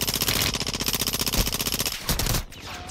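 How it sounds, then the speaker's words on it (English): Rapid automatic gunfire in Call of Duty: Warzone 2.0, sustained loud bursts of machine-gun fire rattling steadily before tailing off near the end. "Taking effective fire!"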